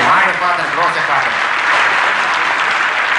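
Audience applause for a clown at a jubilee show rolls on steadily throughout, a dense crowd of clapping hands with a voice sounding over the start.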